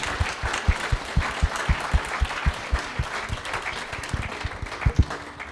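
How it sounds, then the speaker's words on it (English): Audience applause for a panel at a prairie life and home discussion, a steady patter of clapping with sharper individual claps standing out close by, filling the whole stretch without talk. "can we give one more round of applause for our panel?"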